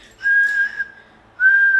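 Two sustained, steady human whistles in a broken-cadence warning signal, a long one followed by a pause and a second shorter one, clear and fairly close with nothing else around them.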